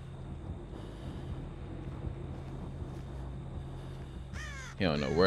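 Crow caws sound in the horror game Dead by Daylight, a short burst of harsh calls near the end over a steady low game ambience.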